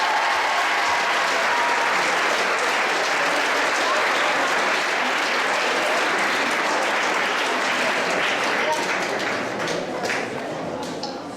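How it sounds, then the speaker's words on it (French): Audience at a school award ceremony claps steadily, a dense sustained wave of applause that fades slightly toward the end. "On peut applaudir à Marie van der Kling."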